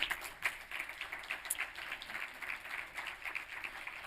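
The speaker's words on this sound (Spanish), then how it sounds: "Un fuerte aplauso para él." An audience applauding a speaker at a university talk on tourism cooperation, a moderately faint, steady patter of clapping with slight pulsing throughout.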